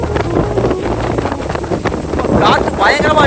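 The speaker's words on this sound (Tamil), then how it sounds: "காத்து பயங்கரமா அடிக்குது." Strong wind buffets the microphone outdoors in the Kookal hills near Kodaikanal, a loud, continuous rumbling roar with gusty swells throughout. Faint voices may sit beneath it.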